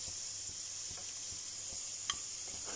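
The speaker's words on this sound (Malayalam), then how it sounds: "സവാള ചേർത്തൊന്ന് വഴറ്റുക നന്നായി വഴന്ന് വന്നതിന് ശേഷം" Onions sautéing in a pan for chatti pola, a steady soft sizzle running throughout with occasional faint clicks of stirring, fairly quiet and without voices.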